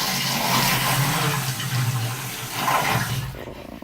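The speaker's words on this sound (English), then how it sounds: "it is a sink with a toilet handle attached" A sink fitted with a toilet flush handle drains with a gurgling rush of water, close and steady before cutting off near the end, no voices.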